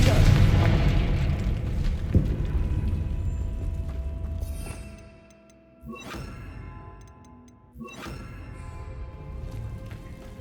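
Spell blasts in the Hogwarts Legacy video game: a deep booming rumble fades out, then two sharp explosive impacts land a couple of seconds apart, each followed by ringing, clanging debris and a lingering tail.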